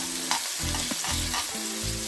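Pork belly fries in a pan for kimchi fried rice, giving a dense continuous sizzle with faint stirring scrapes, close and moderately loud, with no voices.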